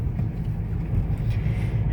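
Steady low road rumble from inside a moving car heading to a petrol station, a continuous engine and tyre drone with no talk.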